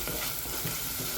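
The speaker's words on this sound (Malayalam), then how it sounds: "ഇടയ്ക്ക് മൂടി തുറന്നിട്ടൊന്ന് ഇളക്കി കൊടുക്കാം" Sardine peera, a dish of fish cooked with tomato and grated coconut, is stirred in a pan. The sound is a steady, close, loud sizzling scrape with no voices.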